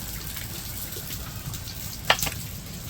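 Cumin seeds, chopped garlic and onion crackle in hot oil during a home breakfast tempering, a soft, steady sizzle with a brief clink near the end and no talking.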